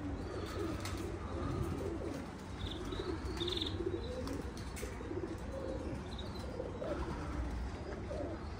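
Low, rolling coos from a group of pigeons carry on steadily, with a few light chirps and soft wing flutters mixed in.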